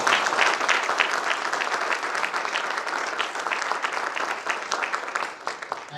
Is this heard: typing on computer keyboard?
no